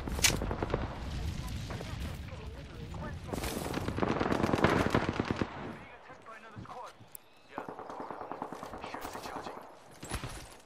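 Gunfire in the video game Apex Legends, with dense, rapid automatic bursts and scattered single shots running nearly continuously for about ten seconds, with a brief lull near the middle and talk mixed in.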